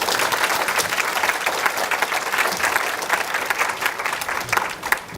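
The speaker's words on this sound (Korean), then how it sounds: "큰 박수로 맞이해 주시기 바랍니다." Applause from a university lecture audience greets the speaker at a special lecture, a dense, loud, sustained burst of many hands clapping that lasts about five seconds without speech.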